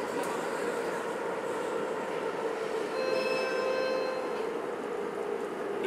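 A Prague metro Ečs train set rumbles steadily along the track in a loud, continuous roar heard from inside, with a thin wheel squeal ringing partway through.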